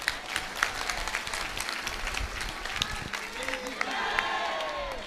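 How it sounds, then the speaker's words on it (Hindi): An audience at a spiritual discourse breaks into steady clapping that fills the whole stretch at moderate volume, with crowd murmur mixed in. "अब ताली बजाओ।"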